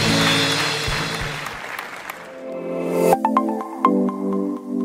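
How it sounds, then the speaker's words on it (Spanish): Applause at a church service rings out loudly at first, then thins into scattered claps and fades over a few seconds, with no talk over it. "Le damos un aplauso fuerte al Señor."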